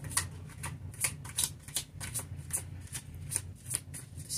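Tarot cards being shuffled by hand, a quiet, close series of crisp riffling flicks repeating in a quick, uneven rhythm of roughly a dozen bursts.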